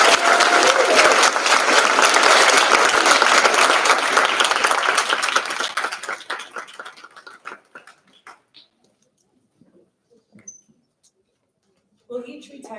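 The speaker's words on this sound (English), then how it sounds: "we would like to show her our appreciation with a round of applause" A crowd at a school honor society induction ceremony applauds loudly and steadily for several seconds, then the clapping thins to scattered claps and fades into near silence before a brief noise returns.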